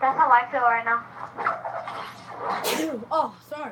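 Brief sneeze bursts out in the middle of the clip, between stretches of conversational speech from nearby people.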